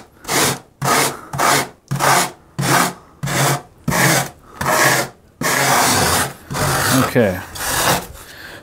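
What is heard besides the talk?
rasp filing foam on a model railway layout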